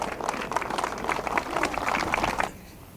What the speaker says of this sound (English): Big rousing cheer for the three girls.